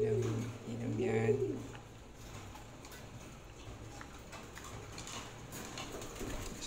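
Pigeons coo in soft, low repeated calls during the first second and a half, close by, amid a loft's faint background rustle and clatter.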